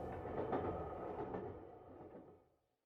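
A train running on rails at a British station, giving a steady broadband rumble with faint rhythmic clatter that fades away over about three seconds, heard alone.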